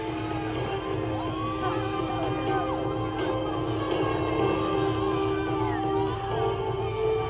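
Crowd cheering and shouting at a Battle of Hastings reenactment, a steady mass of voices with whoops and children's shouts, sustained and fairly loud throughout.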